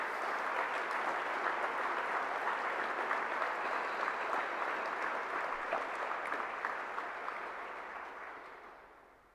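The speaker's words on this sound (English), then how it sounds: "Let's give them a big round of applause for their great work." Sustained applause from a large memorial-event audience honoring emergency responders and the FBI, a dense even wash of clapping that holds steady for most of the clip before tapering off near the end.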